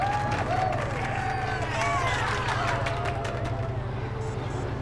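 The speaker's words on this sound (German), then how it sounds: "Und die Menge jubelt!" A crowd cheers and roars continuously after a swoop race in the video game Star Wars: Knights of the Old Republic, over a steady rhythmic electronic backdrop, with excited voices and game sounds mixed in.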